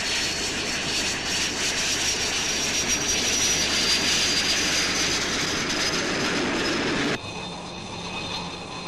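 A 1960s naval jet, a Buccaneer, lands on an aircraft carrier deck and catches an arrestor wire on its second attempt; a loud, steady, whining roar holds close throughout, then drops abruptly to a lower hum.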